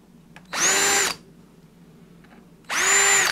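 A power drill boring pilot holes, heard as two loud, close bursts of high whining motor, each about half a second long, separated by a quiet gap.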